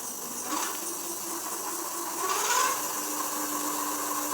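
An AIIOKI A8 e-bike's rear hub motor spins on throttle with only the rear wheel engaged, giving a faint, steady mechanical whir with a soft rising whine and light clicking.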